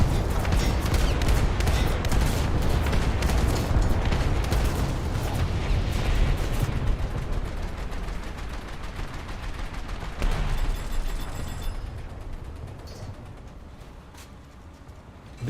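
Naval guns fire in the American Coastal game as a dense, rapid barrage of sharp shots for several seconds, then thin out into scattered reports over a fading rumble.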